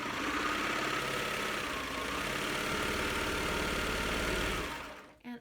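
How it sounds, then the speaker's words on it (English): A serger sewing machine trims a thin sliver off a fabric edge, making a fast, even motorized whir that runs steadily for about five seconds and then stops, followed by a brief soft thump. "Barely taking off, just a little skiff of fabric as I serge."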